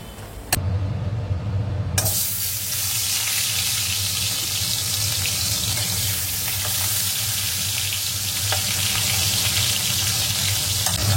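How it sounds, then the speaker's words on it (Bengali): Fish fries in a pan of oil with a loud, dense, continuous sizzle that holds steady for several seconds, following a brief sharp clatter at the start. "এখানে মাছ ভাজাটা হচ্ছে"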